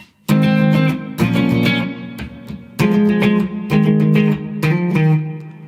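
A guitar plays the bridge of a song, short passages of strummed chords in separate bursts with brief gaps between them, close and clear, with no voices.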